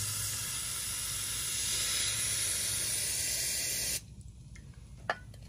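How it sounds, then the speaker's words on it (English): Spray cleaner is blasted and blown through a Kawasaki Brute Force 300 ATV carburetor, a loud continuous hiss for about four seconds that cuts off, followed by faint handling noises. "If you don't have a brush big enough, just keep spraying it and blowing it out."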